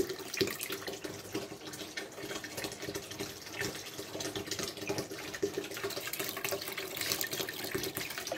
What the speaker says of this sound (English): Motor on, level low, water is on